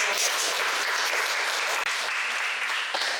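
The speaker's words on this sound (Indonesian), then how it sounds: "Tepuk tangan untuk" Students in a junior high school classroom break into brisk, loud applause, a thick unbroken wash of clapping hands that fills the whole moment.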